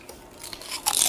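A single crisp bite into crunchy fried pork head skin, a short sharp crackling crunch at close range after a quiet moment.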